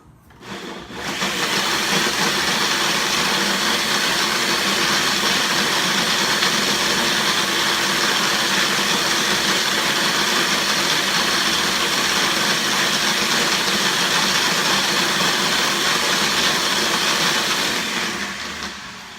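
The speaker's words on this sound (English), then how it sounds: "you want to make sure that you blend everything in pretty well because you want it to all the flavors to go into one single sauce" A full-size blender whirs steadily for about seventeen seconds, mixing a vegan Thai crunchy slaw sauce, loud and continuous with a clear start and fade at the end, no talking.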